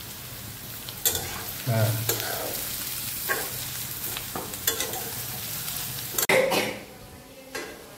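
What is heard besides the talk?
carrot frying in oil, being stirred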